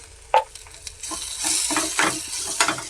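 Turmeric and chili powder frying in a pan while being stirred, a sharp clink then rising close sizzling with scraping strokes of the spoon, no voices.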